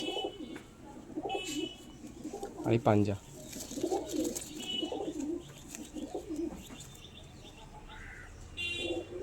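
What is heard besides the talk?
pigeons cooing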